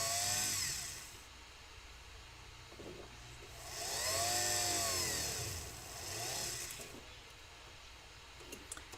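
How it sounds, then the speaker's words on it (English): A power buffer polishes a surface with Euroluster polishing compound. Its whirring drone rises and falls as pressure changes, swelling louder twice, with a faint scraping texture underneath. "we're going to buff it. You can already see it's polishing up."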